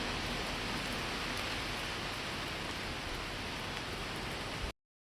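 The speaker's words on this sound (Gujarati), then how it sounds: "પવન સાથે વરસાદ છે" Steady, dense hiss of wind-driven rain falling continuously, fairly even and washing over everything, with no voices; cuts off abruptly at the end.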